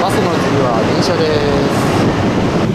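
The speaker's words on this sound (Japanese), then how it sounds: "電車です。" A train running through Manila in 30-degree heat gives a steady, loud, close rumble of wheels and carriage noise with no break, with no voices heard.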